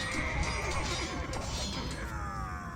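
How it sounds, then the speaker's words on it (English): Horses neigh in an Age of Empires 2 battle, a loud whinny rising over busy combat noise with clattering hooves and impact sounds, no talking. "And now these horses are starting to engage each other now."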